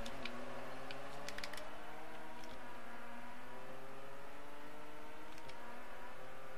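A Volkswagen Corrado engine in the Forza Horizon racing game revs with layered, climbing harmonic tones, holding a steady moderate level with a few faint clicks underneath.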